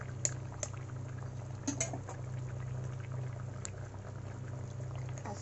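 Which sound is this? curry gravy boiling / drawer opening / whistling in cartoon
curry gravy boiling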